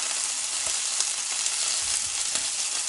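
Ground beef steak sizzles in a hot frying pan, pressed flat with a spatula, giving a loud, continuous crackle close to the microphone with small pops and scrapes and no talking.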